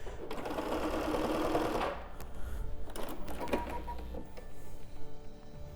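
A home sewing machine stitching a full seam line on a quilt block, a fast steady mechanical whir for about two seconds, then stopping and starting in short uneven bursts with clicks.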